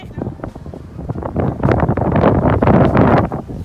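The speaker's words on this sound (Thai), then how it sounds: "ลมแรงมากนะคะ" Strong wind blasts across the microphone in a New York City snowstorm, a loud buffeting roar that builds and stays heavy while someone talks.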